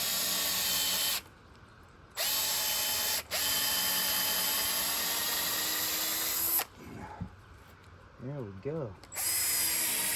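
A power drill whirs loudly into wood on a chainsaw-carved birdhouse in several long bursts with short pauses between, joined by brief mechanical clicks and a few spoken words.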